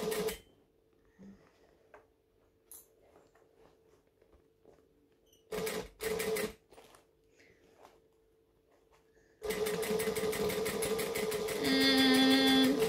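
A domestic sewing machine stitches in a few short bursts, then runs in one long steady whirring stretch to finish sewing a curved seam, with soft handling clicks between the runs.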